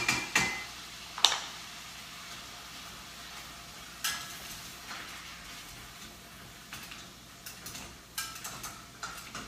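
Minced beef sizzles and crackles in a pan while being broken up, a steady frying hiss punctuated by sharp scraping and tapping of a utensil against the pan, several distinct clatters spread through the clip with no talking.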